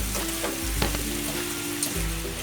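Pork adobo frying in a pan sizzles steadily at close range while a utensil stirs through it with a few soft scrapes and knocks, moderately quiet, without speech.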